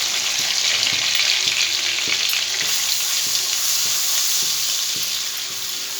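Garlic paste, ginger paste and Kashmiri chili powder fry in a pan over low gas for a soya chili, giving a steady close sizzle broken by regular light clicks of stirring.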